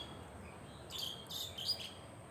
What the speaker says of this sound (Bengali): ছোট্ট ছোট্ট পাখিগুলো কিচিরমিচির করে ডাকছে